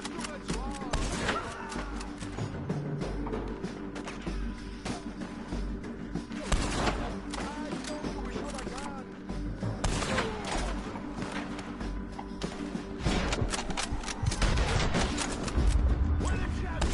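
Repeated gunfire in Red Dead Redemption 2, scattered shots and volleys cracking over the game's ambience for the whole stretch while voices shout in the background.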